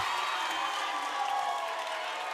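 A high school volleyball crowd in a gym cheers loudly and continuously during a Kellogg Wildcats versus Clarkston Bantams match, a steady wash of shouting and applause.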